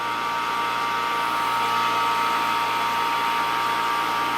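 A vacuum pump runs steadily, pumping down a xenon-filled discharge tube, giving a loud, continuous mechanical whir with a constant hum and no pauses, alone throughout.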